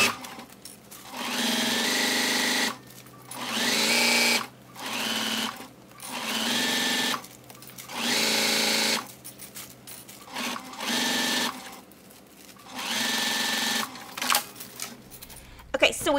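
Sewing machine stitching a vinyl and zipper project bag at a 2.0 stitch length, running in repeated bursts of steady whirring with short pauses between, close up, with a voice talking in the gaps.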